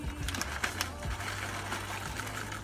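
Wire whisk stirring a cream sauce for Cajun chicken and vegetable Alfredo, a steady close whirring, swishing churn that runs continuously with faint liquid dribbles, no voices over it.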